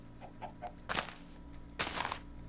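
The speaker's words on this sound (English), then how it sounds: "I'll push the chicken." Chicken clucking in the Minecraft video game: a few soft clucks, then two louder bursts of game sound effects about a second apart, all over a steady low background hum.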